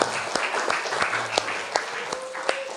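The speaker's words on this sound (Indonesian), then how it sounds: "Beri tepuk tangan buat kalian semua." A classroom of children in an Indonesian primary school claps briskly together. It forms a soft, continuous wash of applause with sharper individual claps poking through.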